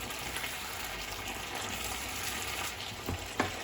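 Truffle pappardelle being stirred in sauce in a pan, a steady wet sizzle with soft sloshing and a couple of light utensil taps near the end, no voices.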